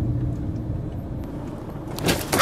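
A car reverses slowly into a driveway, heard as a low, steady engine rumble close by, with a brief clunk and rattle near the end.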